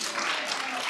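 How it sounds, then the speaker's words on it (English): Applause in a legislative house sitting as members clap to adopt a bill, a continuous soft patter of many hands heard from a distance. "I thought those that have adopted will clap hands."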